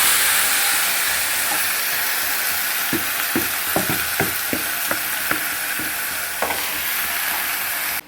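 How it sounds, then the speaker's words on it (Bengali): Marinated chicken pieces frying in an oil-free pan, a steady broadband sizzle throughout with a series of sharp clacks and scrapes from stirring in the middle, close and loud, with no voices. "এরপর আমি ম্যারিনেট করা চিকেনটা এর মধ্যে দিয়ে দেবো।"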